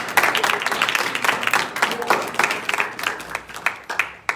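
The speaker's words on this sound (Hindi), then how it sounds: "इसलिए इनके लिए ताली हो" Audience applause at an award ceremony for a Sharda competition, a patter of clapping from a modest crowd with scattered louder claps, steady through the clip with a few sharp hand claps near the end.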